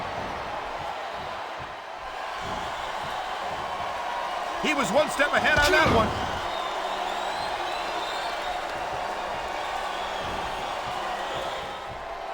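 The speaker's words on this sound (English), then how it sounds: "It sounds like this capacity crowd has something on their minds." A capacity wrestling arena crowd in the video game Smackdown Vs Raw 2008 keeps up a steady roar and murmur throughout, with a brief burst of thuds and clatter partway in and commentators talking over it.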